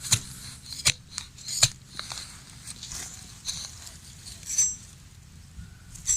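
A rubber tapping knife cuts into rubber tree bark in a few sharp, close scraping strokes with short pauses between them, over a quiet outdoor background and no speech.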